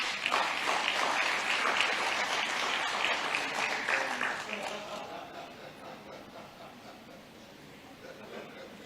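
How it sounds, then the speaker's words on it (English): Another round of applause from the audience at a mining company's haulage launch, a full wash of clapping for about four seconds that then fades gradually to scattered claps and quiet murmuring. "can we give him another round of applause?"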